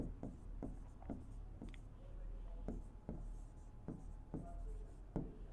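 Chalk or marker writing on a classroom board during a Class 10 geometry lesson, a series of short scratchy strokes and taps at a steady pace, close and fairly quiet with no speech over it.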